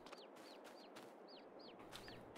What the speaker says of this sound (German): Eins, zwei, drei Hähne sogar.